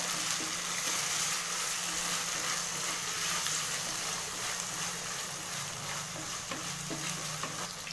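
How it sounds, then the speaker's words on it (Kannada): Onions and tomatoes frying in a pan for pumpkin rice give a continuous close sizzle with soft stirring scrapes throughout, steady and moderately loud with no voices. "ಇವಾಗ 2 ಟೊಮೊಟೊ ಹಾಕೊಳ್ತಾ ಇದ್ದೀನಿ. ಇದನ್ನು ಕೂಡ ಚೆನ್ನಾಗಿ ಫ್ರೈ ಮಾಡ್ಕೋಬೇಕು."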